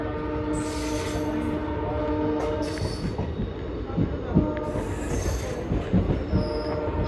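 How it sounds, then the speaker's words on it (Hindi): Passenger train 14526 pulling out of Barnala railway station, heard from on board as a loud steady rumble with wheel squeal, clanking, and a distant horn. "निकल चुकी है अपनी ट्रेन बरनाला से"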